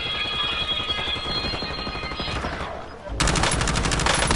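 Rapid automatic gunfire from the Call of Duty Warzone video game rattles continuously and loudly, swelling into a denser, harsher burst partway through, with a voice briefly audible.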